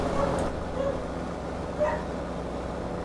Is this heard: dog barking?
yes